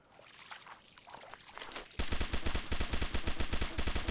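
Gunfire in the mobile shooter Pixel Gun 3D during a battle royale match: faint scattered shots at first, then a loud, rapid automatic burst of evenly spaced rounds that continues to the end.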